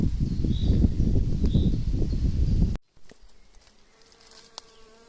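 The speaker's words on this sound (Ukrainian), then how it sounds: "Бджілки працюють." Bees work in a remote wild corner of the Carpathians in May, their dense close buzzing swelling loudly for a few seconds before cutting off abruptly. Quiet outdoor ambience with small knocks follows.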